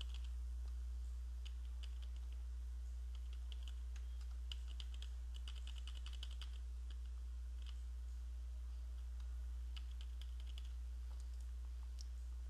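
Keys click on a computer keyboard at scattered, irregular intervals while steering a robot simulation, faint and light over a steady low electrical hum, with no talking throughout.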